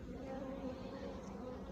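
Honeybees drone steadily around a swarmed hive on a warm June apiary visit, a close, continuous buzz with no pauses and no talking.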